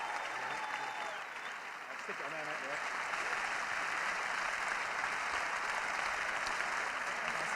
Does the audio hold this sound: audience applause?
yes